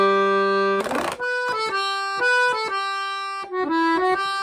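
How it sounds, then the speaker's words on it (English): An accordion sweeps in a quick smeared glissando up to the next octave, then plays a steady repeating melodic pattern of clear reedy notes in the higher register, close and alone with no talk. "when you repeat that pattern, you can like do a glissando"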